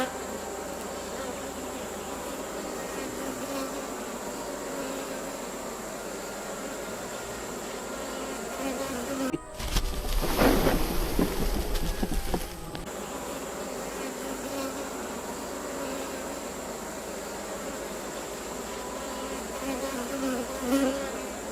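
Honey bees buzzing in a steady, dense drone around hives being requeened at a beekeeping club meet, constant throughout with a brief louder, closer burst partway through.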